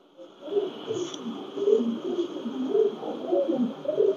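Pakistani teddy pigeons coo repeatedly in soft, low, throaty rolls, close and continuous through the clip, with no talk over them.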